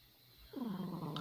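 A cat with a deformed nasal cavity purrs loudly in a brief, rough, rasping, pulsing burst that starts abruptly after quiet, sounding close and low and almost snore-like.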